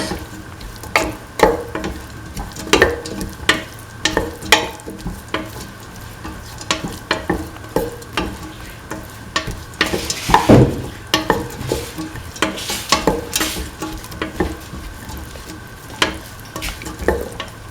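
Vegetables are sautéed and stirred in a pan for a vegetarian snake gourd and kidney bean dish, giving a continuous sizzle with frequent scraping and clattering strokes of a spoon, one louder burst partway through.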